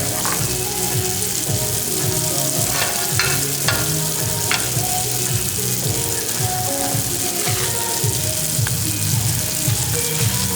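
Steady crackling sizzle of eggs frying in olive oil in a hot pan, constant and close, with occasional clinks and stirring noises over the bubbling.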